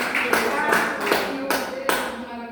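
Congregation members clap during an outdoor preaching gathering at the edge of a field, giving a handful of separate, fairly sharp claps at an uneven beat, mixed with voices and tonal background sound.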